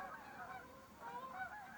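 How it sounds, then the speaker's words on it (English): A flock of geese honks repeatedly at a distance, faint overlapping calls with no one speaking. "I love the sound of geese"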